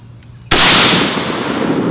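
A single sharp, loud blast from a Springfield Armory M1A Scout/Squad rifle with iron sights, fired outdoors into dirt, hits suddenly and rolls off into a long echoing decay.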